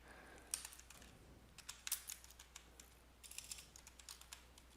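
Quick, irregular key taps on a computer keyboard, close and fairly crisp, coming in short bursts with brief pauses between them and no talking.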